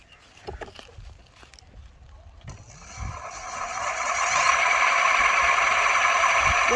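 An RDB Sulina e-scooter wheel motor, under repair, spins up from quiet to a steady, fairly loud electric whine, with a few faint knocks before it starts.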